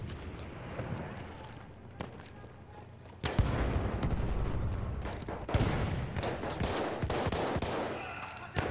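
Gunfire in Battlefield 1 on a team deathmatch map, with rifle shots and bursts of fire plus explosive booms, some loud and close, mixed with a player's voice talking.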